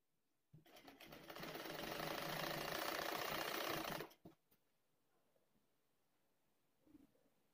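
A sewing machine runs in one continuous burst of about three and a half seconds, stitching a long basting seam along a folded kurta hem. It stops abruptly, then goes quiet apart from a couple of faint clicks.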